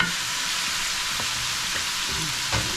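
Beef stew sizzles steadily in a pot on the heat, a close, even frying hiss with a few soft clicks and pops scattered through it, and no voices.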